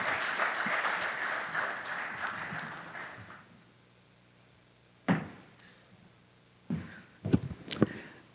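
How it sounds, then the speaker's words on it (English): Audience at a sustainability event for chartered accountants clapping as a guest walks onstage, a lively round of applause fading out after about three seconds, followed by scattered thumps and handling knocks in a quiet hall. "Can we have a big round of applause as he walks onto the stage"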